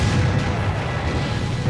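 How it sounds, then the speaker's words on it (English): Historic cannons fire at a living-history event in Arkansas, a loud sustained booming rumble with heavy low-end roar filling the moment, no voices over it. "it's fun to hear the cannons go off"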